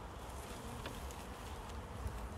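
A steady, dense hum of many honeybees buzzing close by at a hive as new queens emerge, continuous and even throughout, with no talking.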